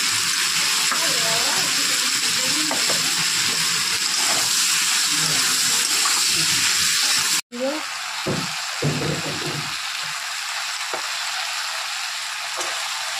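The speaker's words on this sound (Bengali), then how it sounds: "ভালো করে এটা মশলাটা কষিয়ে নেব।" Ridge gourd and potato with green chili, cumin and ginger paste sizzle steadily in a pan for a fish curry, a constant hiss under a speaking voice, briefly broken midway and followed by a few utensil knocks.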